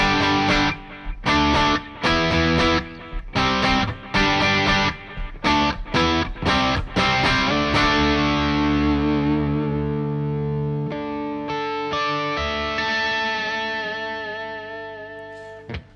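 A distorted electric guitar with DiMarzio AT1 and Cruiser pickups plays choppy rock chords and riffs, ending on a long sustained ringing chord that slowly fades.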